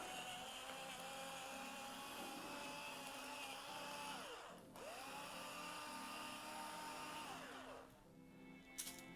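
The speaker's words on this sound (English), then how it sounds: "There's that grinding sound." An electric pepper grinder grinds pepper over seasoned flour with salt for lemon chicken: a faint, steady motor whine that dips in pitch twice before stopping.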